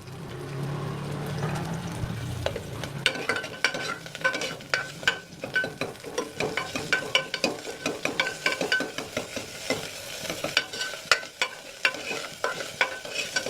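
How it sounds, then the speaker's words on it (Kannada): Onions frying in hot oil in a pan for sprout curry, with a steady sizzle and a busy run of quick scraping, clattering stirring strokes that grows denser as it goes on, close and alone. "ಇವಾಗ ನಾನು ಇದು ಕಾದಿದೆ, ಈರುಳ್ಳಿ ಹಾಕೋಣ."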